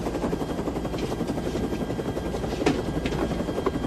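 A helicopter flies in a crime action film scene, its rotor chop a steady, dense thumping drone that fills the whole stretch at close range, heard alone.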